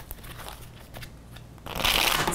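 Tarot cards are shuffled close by in a dense, papery rustle and riffle that swells into a louder, brighter flurry near the end, with no talking.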